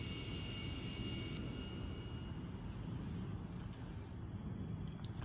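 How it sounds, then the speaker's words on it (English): A luxury jet in the GTA 5 video game flies toward Vice City, giving a steady, low engine drone with a constant rumble under a fading high whine, fairly quiet and even throughout, with no talk. "And now we will be flying to Vice City."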